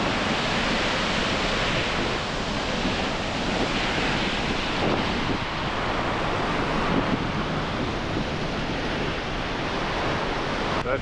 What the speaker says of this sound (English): That's Pine Creek raging over here.